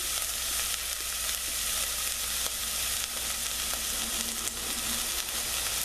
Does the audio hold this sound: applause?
no